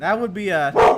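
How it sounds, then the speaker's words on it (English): Someone speaks briefly, then a dog lets out a single short, loud bark close by. "apologize for my dog there"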